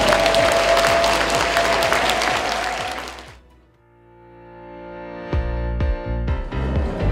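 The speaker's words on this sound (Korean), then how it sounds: "여러분들을 위해서 서로 박수 한번 쳐주세요." An audience at a national volunteer firefighter lecture competition claps for about three seconds, a dense burst that fades out abruptly before music starts with a tone and strong percussive beats.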